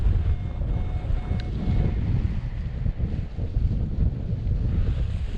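Strong gusty wind at a paragliding site buffets the microphone with heavy low roaring and rumbling, rising and falling in gusts continuously, loud and close with no speech.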